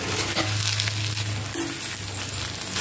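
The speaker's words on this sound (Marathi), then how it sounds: "याला 1-2 मिनिट फक्त आपल्याला परतवून घ्यायचं आहे." Spiced vegetable mixture sautéing on a flat griddle, a loud continuous sizzle and crackle with faint scraping of a spatula, close up and without voices.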